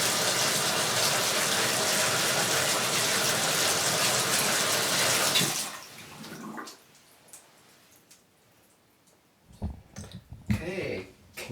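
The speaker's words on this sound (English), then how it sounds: "let me go ahead and turn this water on" A bathtub tap runs loudly with a steady broadband rush after a stuck tub drain linkage was repaired, then shuts off, leaving faint handling clatter and a few short knocks.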